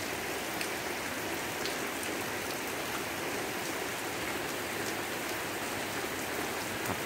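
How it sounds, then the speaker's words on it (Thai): Steady, dense rain falls continuously in a close, even hiss with scattered droplet taps and no pauses. "วันนี้ก็ได้มาพาดูฝนปล่อยๆ"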